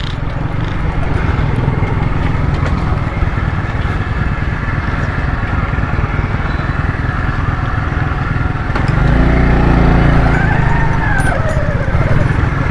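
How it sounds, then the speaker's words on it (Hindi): Motorcycles roll across railway tracks with a steady, close engine drone and low idling rumble. A louder, heavier engine surge builds near the end. "पटरी के ऊपर से जो है ना मोटरसाइकिलें गुजर रही हैं।"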